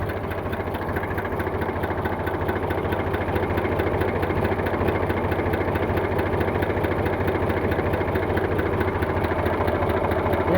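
An Eicher 485 tractor engine idles steadily nearby, a continuous low, rhythmic diesel chug with a fine mechanical clatter, unchanging and alone for the full stretch.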